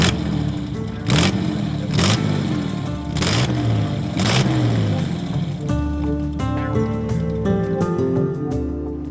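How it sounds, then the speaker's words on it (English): A 1927 3-litre Bentley engine runs steadily and loudly up close through the whole stretch, its note shifting in pitch as it drives, with bursts of wind or road rush mixed in. "This is a 1927 3-litre Bentley."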